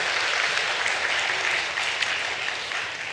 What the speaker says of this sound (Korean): 다 같이 함께 우리 박수로